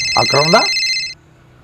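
A short electronic phone ringtone chirps for about a second while a voice speaks over it, then stops.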